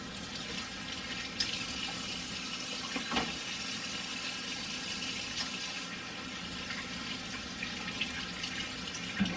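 Hands are washed under a running kitchen tap, a continuous close stream of water with small splashes and shifts in flow, no voices.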